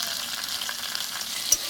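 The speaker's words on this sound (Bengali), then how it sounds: "এবার আমি ভালো করে কষি।" Prawns sizzling in a pan with turmeric and chili powder, a steady close frying hiss with faint stirring scrapes and one sharp clink near the end.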